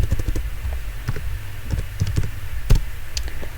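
Keys clatter on a computer keyboard as a command is typed, a quick, uneven run of close taps with short pauses and a few harder strikes, with no voices.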